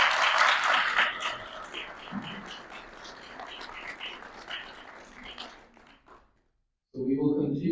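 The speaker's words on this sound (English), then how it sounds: "let's give Rabbi Panitz once more a round of applause" A lecture audience in a retirement community's meeting room applauds a rabbi, steady moderate clapping that tapers off and drops to silence before a voice resumes.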